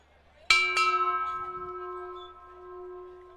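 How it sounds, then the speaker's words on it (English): A single bell is struck twice in quick succession in the winner's circle at Canterbury Park racetrack on Leg Up Night, and the clear metallic tone rings out and decays slowly, loud and close, with no talking. "Love to hear the ringing of the bell here on Leg Up Night in that winner's circle"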